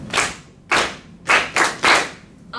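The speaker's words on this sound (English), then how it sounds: "So we have this measure, okay? Let's clap it first" Five sharp hand claps ring out close and loud in a simple rhythm during a music lesson, two spaced beats followed by three quicker ones.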